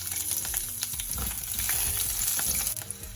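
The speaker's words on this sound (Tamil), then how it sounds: "கொஞ்சமாக ஆயில் விட்டு செத்த மிளகாய் போடுறேன்" Dried red chillies, garlic cloves and a piece of ginger frying in a little oil, a dense close sizzle with light stirring scrapes running continuously through the short stretch, no voices.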